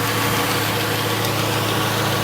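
Radiator cooling fans spin on a 1995 Acura Integra GS, with a steady, loud whirring drone and engine hum that continue without a break, close by.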